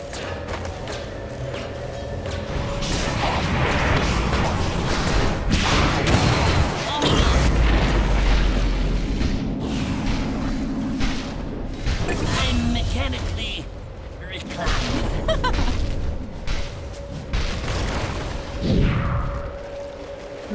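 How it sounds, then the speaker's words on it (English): Combat effects from Dota 2 as Radiant's middle tower comes under attack, with repeated booms, thuds and bursts over a dense, continuous game soundscape throughout. "Radiant's middle tower is under attack."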